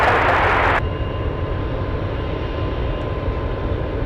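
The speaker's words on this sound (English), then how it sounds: "that's UPS 67 flying in from Seoul, South Korea" A UPS cargo plane inbound from Seoul to Anchorage rumbles overhead with a steady, broad engine roar, loud at first and then settling into a continuous lower drone.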